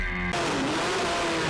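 A race car at the Kirkistown circuit blasts past, a loud engine roar that sweeps through and fades as the car moves away down the track.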